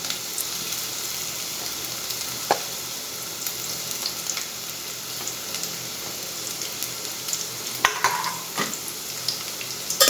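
Chopped onion, with some spring onion, sautés in hot oil in a pan, giving a continuous close sizzle with scattered clicks and scrapes of stirring, with no voices.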